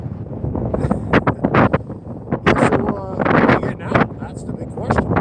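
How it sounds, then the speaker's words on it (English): Strong wind gusts buffet the microphone outdoors on the ice during an ice fishing outing, roaring in bursts throughout with people talking under it. "That wind is brutal."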